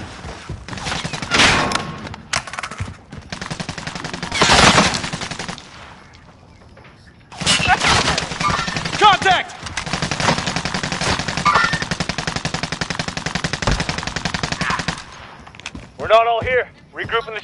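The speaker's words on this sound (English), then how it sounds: "I'm taking fire!" Automatic gunfire and bursts of shots from a PS4 shooter game, loud and repeated across the clip with a quiet gap in the middle, while players talk over it.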